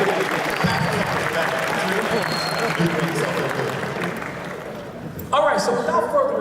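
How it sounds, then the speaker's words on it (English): Audience applause at an anime convention opening ceremony, a sustained crowd clapping and cheering that thins out, then a louder burst with voices near the end. "Give yourselves a round of applause for making it out there."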